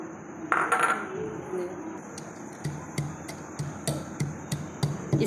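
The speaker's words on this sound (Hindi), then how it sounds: "इसको हम अच्छे से पहले कूटेंगे।" Thandai ingredients such as poppy seeds are pounded in a kundi mortar, a pestle striking in a steady series of sharp, ringing knocks close by after an initial clatter, with someone talking softly in between.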